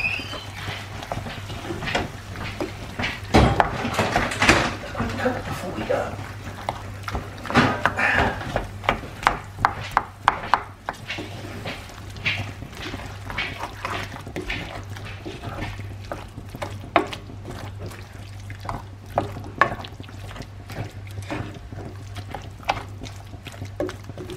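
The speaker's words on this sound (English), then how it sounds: "all I'm going to do now is mix that in" Grated cheese being stirred into pumpkin mash, with soft squelching and repeated scraping and tapping of a utensil against the bowl, close by and steady, with a low hum behind.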